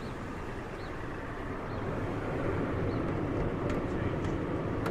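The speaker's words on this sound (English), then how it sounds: "Engine here, so you can hear that." A 2011 Toyota FJ Cruiser 4x4 engine idles with a steady, low broadband rumble that grows slightly louder partway through, heard alone without speech.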